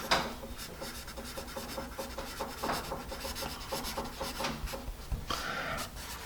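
Palomino Blackwing Pearl pencil eraser rubbing out pencil marks on paper, a rapid rhythmic scrubbing close up and fairly quiet.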